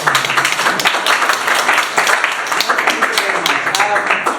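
An audience claps for a speaker at a continuing medical education session on sickle cell disease at Kalangala Health Centre IV, with dense, steady hand claps running throughout under voices talking.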